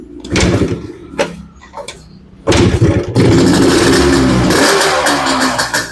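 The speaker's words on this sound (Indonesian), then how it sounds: "Wow, sangat menggelegar ya teman-teman. Motor sport 2 tak era tahun 70-an" A 1970s two-stroke sport motorcycle engine barks in short, loud revving bursts that build into a sustained, rough, crackling roar close by.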